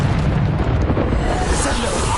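A Bombarda blast spell from Hogwarts Legacy erupts in a loud, continuous roaring burst of explosive noise with a heavy low rumble, filling the whole moment without pause.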